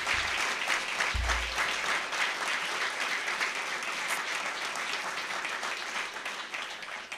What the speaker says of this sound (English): please join me for the round of applause for the City Council and for CRDA